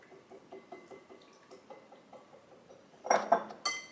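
A small whisk clinks rhythmically against a bowl while mixing oil and vanilla, a quick, light, even ticking close by, ending in a few louder metallic knocks.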